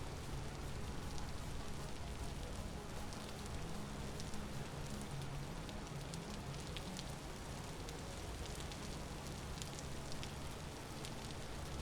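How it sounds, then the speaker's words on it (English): Rain falls steadily in the video game Vintage Story, a soft, dense patter of drops with a low, constant hiss and no talking. "I can't hear much over the sound of the rain."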